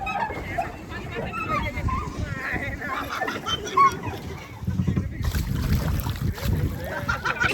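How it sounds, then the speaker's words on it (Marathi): Water splashing at a camp at Toranmal, with irregular splashes and sloshing close by while several people shout and talk over it throughout. "नको रे नको रे नको रे, पाणी नको उडवा रे."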